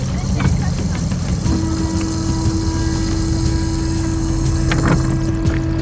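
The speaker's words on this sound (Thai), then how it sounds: "เรือหางยาวลำน้อย ค่อยๆ พาเราฝ่าแม่น้ำสารวินอันเชี่ยวกรากไกลออกจากหมู่บ้านไปเรื่อย" A small long-tail boat motor drones loud and steady throughout on the fast-flowing Salween River, a constant low engine rumble with water rushing beneath it.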